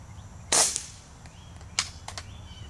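A single sharp crack of an Mrod air rifle firing, loud and close near the half-second mark, followed by fainter pellet impacts or echoes, with no talking.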